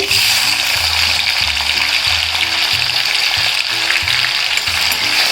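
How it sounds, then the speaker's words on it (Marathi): Tomatoes fry in a kadhai over a tempering of browned garlic, cumin and mustard seeds, giving a constant, fairly loud hissing sizzle close by that stays even throughout without talk. "लसूण लाल झाले आता टोमॅटो टाकून घेते"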